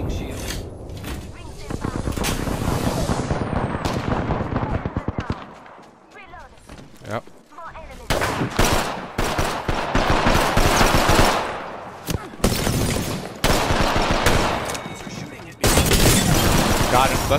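Video game gunfire in an Apex Legends match: loud bursts of rapid automatic shots with short gaps and a few booms, nearly continuous and close, with a player talking over parts of it.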